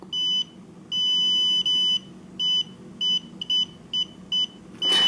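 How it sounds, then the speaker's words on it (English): A homemade Arduino laser tripwire buzzer sounds a series of loud, high-pitched electronic beeps, some long and some short, in an irregular on-off pattern, alone with no talking. "When the tripwire is broken, it sets off the alarm"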